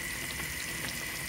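Liquid from a pan of frying mushrooms is poured out in a brief, steady trickling splash, close by and alone.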